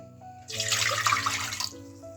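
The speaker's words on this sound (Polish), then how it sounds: "Wlewamy do niego wodę," Water pours into a pot in one short, splashing burst, starting abruptly and cutting off after about a second, with a faint hum underneath.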